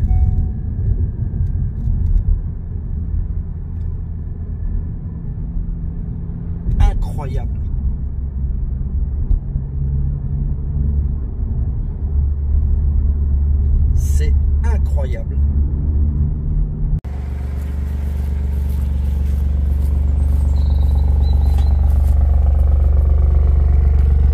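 An Alfa Romeo Giulia Quadrifoglio engine rumbles at idle then builds into a deep, rising roar, with a few sharp clatters earlier; loud and close.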